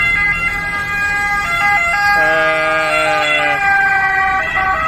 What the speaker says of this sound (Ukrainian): вони просто виїжджають, включають цю сирену, бо вони без неї їздити не вміють